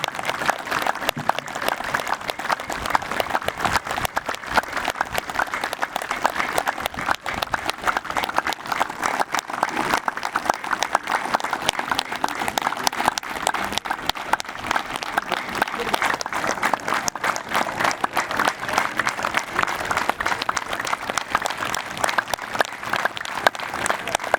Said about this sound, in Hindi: अपने लिए जोरदार तालियां लगाएं और अगले 1 मिनट तक तालियां लगाते रहें।